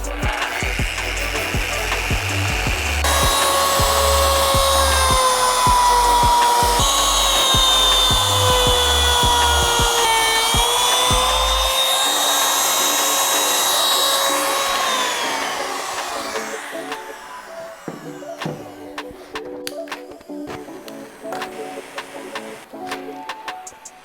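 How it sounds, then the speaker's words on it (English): Power sander running loud and steady over the front edge of a DIY wood countertop to remove saw marks, a continuous whining buzz with shifting pitch that cuts out partway through, leaving quieter workshop clatter. "I'm just gonna run over this front edge with the sander just to remove any of the saw marks that we have."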